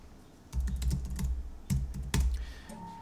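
Bursts of quick keystrokes on a Mac computer keyboard as a password is entered, close and clear, with a short pause between the bursts and no talking.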